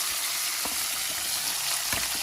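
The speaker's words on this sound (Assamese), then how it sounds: "এয়া মই নৰসিংহৰ পাতখিনিও মৰমৰীয়াকৈ ভাজি ল'ম" Curry leaves fry in a pan while cooking a dry chira snack, giving a steady close hiss of sizzling with a couple of soft stirring knocks, no talk.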